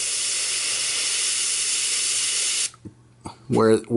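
An airbrush sprays paint onto a Kingdom Death Monster Forsaker pin-up miniature, giving a steady close hiss that runs for several seconds, then cuts off abruptly before a short burst of talk.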